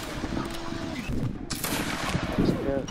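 Musket volleys crackle and pop in a Napoleonic multiplayer battle game, ragged overlapping shots rolling through a dense battlefield din, heard with players talking over voice chat.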